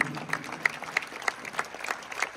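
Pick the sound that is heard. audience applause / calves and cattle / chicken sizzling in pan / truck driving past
audience applause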